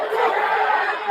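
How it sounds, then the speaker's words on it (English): Wrestling arena crowd yelling and cheering for CM Punk to choke his opponent, a dense, loud wash of many voices with scattered shouts that stays steady and swells briefly at the end. "Do you hear the crowd? There's a bunch of people yelling, yeah, choke him out."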